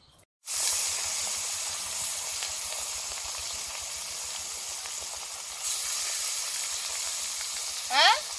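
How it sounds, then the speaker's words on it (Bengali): Catla fish pieces frying in mustard oil: a strong, continuous hissing sizzle that swells slightly partway through, close and steady, with a brief voiced sound near the end. "মাছগুলো ভেজে নেব।"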